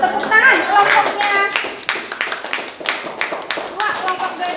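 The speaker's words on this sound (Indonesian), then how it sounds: "Tepuk tangan kelompoknya." A group of seventh-grade pupils claps hands in a classroom, a dense patter of applause close by that thins into scattered claps, with children's voices and talk running underneath.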